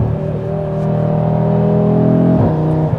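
2025 BMW M3 or 8Y Audi RS3 sports sedan accelerating hard: a loud, close engine drone climbing steadily in pitch, then a brief gear change near the end.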